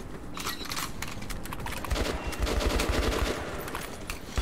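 Rapid rifle fire in the Metro 2033 shooter, a close, dense stream of sharp shots crackling in quick succession with no pause, growing slightly louder toward the end.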